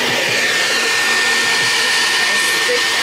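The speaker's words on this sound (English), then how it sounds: "I stick the comb attachment and blow dryer into that section, and I just kind of wiggle it around" A blow dryer with a comb attachment dries a section of curly hair, a loud steady whooshing roar running continuously, close to the microphone, with no talking over it.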